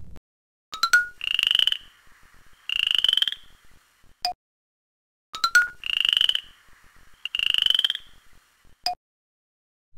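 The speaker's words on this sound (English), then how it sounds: "you want to hear the frog make its sound?" A Sesame Street baby toy plays a frog croaking sound effect when a key is pressed, a short sequence of electronic chirps and buzzy croaks that repeats twice with quiet gaps between, and no voices.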